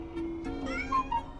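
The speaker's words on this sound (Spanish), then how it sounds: "¡Mira, un gatito! ¡Hola, gatita!" A small kitten meows several times in quick succession, thin and high, close to the microphone over low background hum.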